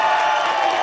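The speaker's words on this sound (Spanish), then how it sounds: "Aplauso para Don Luis de Alba." Studio audience on a late-night talk show bursting into a short blast of applause and cheering, a dense crowd roar lasting under a second.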